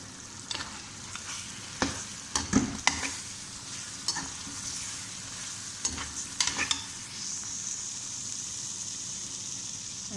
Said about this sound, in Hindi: इसमें हम अब चिकन डालेंगे। चिकन को हल्का सा फ्राई करेंगे।